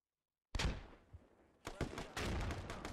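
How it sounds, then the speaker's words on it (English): Gunfire in the military shooter Squad during a sandbagged building fight, starting with a sharp shot and then coming as a cluster of quick, loud cracks and bursts. "We get shot from the outside."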